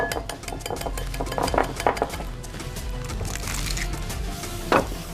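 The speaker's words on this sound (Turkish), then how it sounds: "Şöyle çırpıyorum gördüğünüz üzere." Yogurt, milk and egg whisked in a bowl, a busy run of quick clinking and tapping strokes against the bowl, fairly close and steady.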